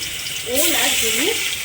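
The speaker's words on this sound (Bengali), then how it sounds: "অল্প তেল দেবো, দিয়ে এবার আমি ওলটা ভেজে নেব" Elephant foot yam pieces fry in a little oil in a pan, a steady close sizzle that grows louder halfway through, with a brief rising tonal squeak over the hiss.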